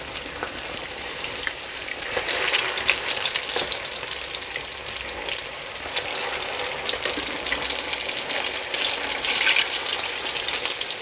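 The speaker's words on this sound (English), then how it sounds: "just let them fry away for about 2 minutes" Potato and mince cutlets (aloo keema tikki) fry in hot oil just after being turned over, giving a steady, close, full sizzle with some watery crackle throughout and no talking.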